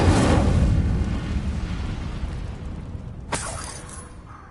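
The Incendio fire spell from Hogwarts Legacy goes off as a loud whooshing burst that decays into a rumbling roar, followed by a sharp crack or shatter near the end.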